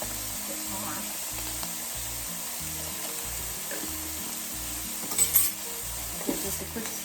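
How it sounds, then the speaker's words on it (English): Chili powder is stirred into a sizzling pan, making a continuous hiss with soft scraping strokes and a couple of brief clinks near the end. "Give this a quick stir."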